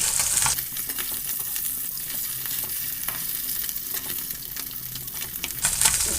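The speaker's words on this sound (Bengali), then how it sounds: "মাছটা আমি এবার আস্তে আস্তে উল্টিয়ে দেব এক সাইড ভাজা মোটামুটি হয়ে গেছে" Small puti fish frying in oil while being flipped one by one, with a continuous close sizzle and crackle and faint scrapes of the turning utensil, with no talk.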